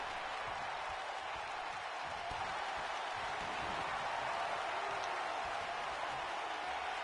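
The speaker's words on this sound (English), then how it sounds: "I'm surprised to see so many members of the crowd here cheering for the Green Ranger" A crowd at a wrestling match cheering and applauding, a steady, distant wash of noise with no breaks.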